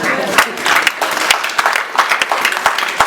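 Church congregation applauding, a dense patter of many hands clapping with sharp individual claps standing out, mixed with crowd voices and cheering throughout.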